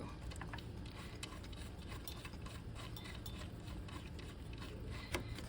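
A ratchet tightening the alternator bracket screw in the engine bay of a 1985-1987 third-generation Chevy Camaro Trans Am, heard as quiet, continuous rapid clicking, close by and without talk.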